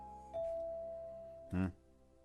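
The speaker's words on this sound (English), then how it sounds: "All of a sudden, the doorbell rang." A two-tone doorbell chime sounds in the IroSekai visual novel game, a long clear ding held for over a second and then a short, louder dong, alone and fairly quiet.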